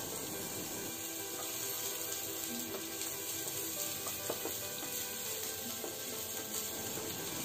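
Sliced onions fry in hot refined oil, a soft, even, continuous sizzle with faint occasional stirring taps, heard close with no talking.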